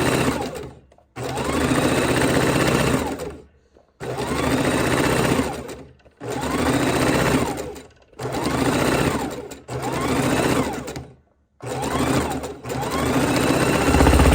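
A domestic sewing machine stitches fabric for raw edge appliqué in about six loud, close bursts of rapid needle chatter, each lasting a second or two and separated by short silent pauses as the pedal is released.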